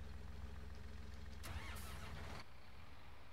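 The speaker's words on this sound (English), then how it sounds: "Should probably move that tractor out of the way" A tractor engine in the Farming Simulator 2019 video game hums steadily at idle, with a louder, rougher surge of revving in the middle before it settles back to a constant drone.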